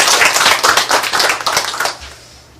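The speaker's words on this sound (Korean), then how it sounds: "우리 한번 다시 한번 박수" A church congregation claps in a brisk, fairly rhythmic burst lasting about two seconds, close and loud, then quickly dies away to quiet.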